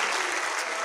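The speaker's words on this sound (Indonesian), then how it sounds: "tepuk tangan untuk kita semua" Audience clapping at a national defence education session during a student orientation event, a dense, steady burst of many hands filling the short moment with no voices over it.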